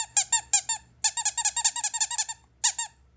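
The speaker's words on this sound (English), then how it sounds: "so here's the squeaker." Rubber squeaker from a restored 1960s Ambi toy camera, squeezed in quick bursts of high, bright squeaks, about a dozen in rhythmic clusters with short pauses, close and clear, no talk.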